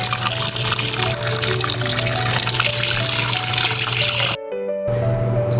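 Running water pours steadily over chicken feet being washed, a continuous close gush and splash that cuts off abruptly near the end, followed by a brief quieter trickle and a return of flow.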